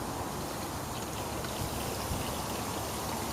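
Water drains and pours steadily from a neighbor's yard toward a house, a constant close rushing and trickling wash at moderate level with no break.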